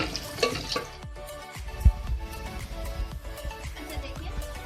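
Mughlai chicken being stirred in a pan, with soft scraping and light sizzling plus a sharp clink of the spoon against the pan, fairly quiet, with no talk.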